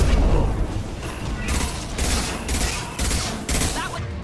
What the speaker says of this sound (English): Firing anti-ship batteries at collector vessel.